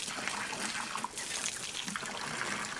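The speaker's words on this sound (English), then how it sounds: "filling up the water" Water trickles and splashes as it fills a container on a farm, a faint, soft, uneven stream with small bursts, heard alone without talk.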